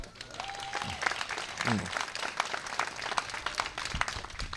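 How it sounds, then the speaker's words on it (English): A graduation audience applauds steadily for several seconds, a moderate wash of many hands clapping with some voices mixed in. "Please give them a round of applause."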